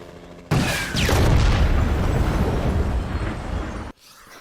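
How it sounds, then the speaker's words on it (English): Rocket blast destroying a house in the Helluva Boss cartoon, a sudden loud boom that roars and rumbles for about three seconds before cutting off abruptly. "A teensy tiny little rocket completely decimated a house?"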